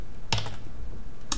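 Code being typed on a computer keyboard: two distinct key clacks about a second apart, close and fairly loud over a steady room hum.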